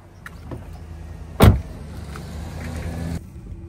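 A car sets off at the start of a drive to the airport, with a sharp thump like a door closing near the middle followed by a steady low rumble of the vehicle nearby, no talking.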